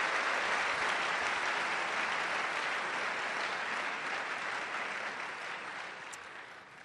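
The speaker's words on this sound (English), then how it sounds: "please will you give a round of applause to Professor John Lennox tonight." A debate audience claps in a sustained, even round of applause that holds steady and then gradually fades toward the end.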